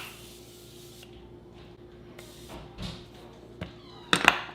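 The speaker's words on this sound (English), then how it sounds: "first let's spray our face" A short burst of hissing setting spray mists onto a face near the end, after quiet rustling and handling noises.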